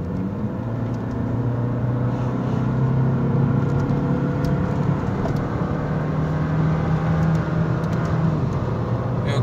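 An Audi TFSI turbocharged car engine pulls under load while climbing, a steady, droning hum heard from inside the car that holds a fairly even pitch throughout.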